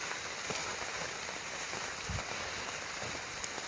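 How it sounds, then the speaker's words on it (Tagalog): Heavy rain pours steadily during a storm, a constant hissing wash with scattered sharper drops and thuds, fairly close and without talk. "Yan tol, sobrang lakas ng ulan tol."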